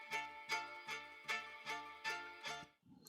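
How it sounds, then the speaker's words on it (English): A chopped music sample, high-pass filtered and played dry without stereo widening, repeats a bright chord stab roughly every 0.4 seconds in a steady pulsing loop before cutting off. "If I just take the expander off, stereo expander,"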